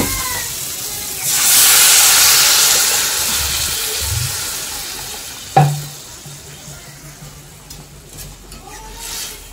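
Water poured into a hot pan of fish curry with banana, potato and fish rises into a loud, sustained steamy hiss, then fades with a brief clatter and low simmering.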